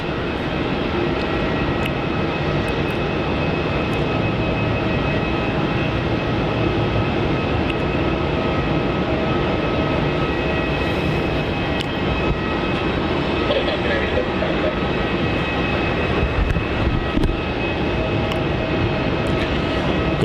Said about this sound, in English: Our next arrival onto runway 16 is VA820 arriving in from Sydney.